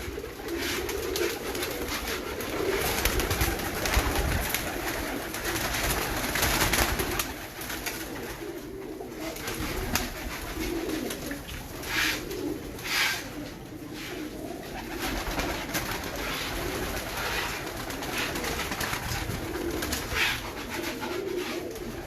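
Royal Teddy pigeons, a flock of Indian and Bangladeshi birds, cooing continuously in overlapping throaty calls, close and fairly loud, with soft fluttering and shuffling among them.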